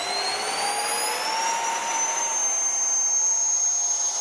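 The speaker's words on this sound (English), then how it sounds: "We were super happy that the Harrier can also hover very close to the ground." A 3D-printed RC Harrier jet hovers close to the ground, its 6S lithium-battery-driven fans producing a loud, steady high-pitched whine that slowly shifts in pitch and never lets up.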